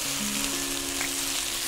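Sausage and potatoes fry in a skillet, giving a steady, close crackling sizzle with a faint hum beneath, continuous and even with no talking.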